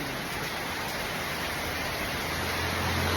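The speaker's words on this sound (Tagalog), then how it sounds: "sobrang lakas ng ulan" Heavy, steady rain pours down in a dense, unbroken hiss with no pauses, loud and close throughout.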